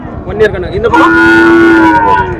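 Cattle at the Morepallayam cattle market, where one-year-old calves and cows are sold, let out a loud, close, drawn-out moo that swells and holds steady for about a second and a half.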